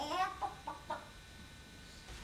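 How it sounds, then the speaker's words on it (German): A rooster gives a few short, quick calls, faint and fading into quiet room noise. "Ihre Hühner waren drei. Und ein stolzer Hahn dabei."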